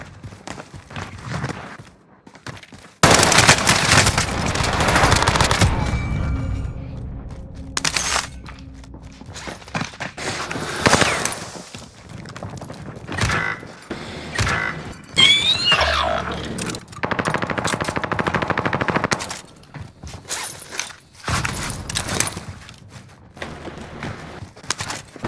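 Rapid gunfire in Call of Duty: Modern Warfare, with loud bursts and clustered shots of varying intensity during a chaotic, noisy firefight.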